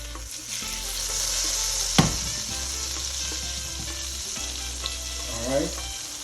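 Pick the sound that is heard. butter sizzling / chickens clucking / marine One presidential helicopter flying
butter sizzling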